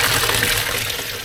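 Water gushes steadily through a splitter feeding two tanks, one behind a machine, on a tarmac painting job; a close, continuous rushing flow with no breaks.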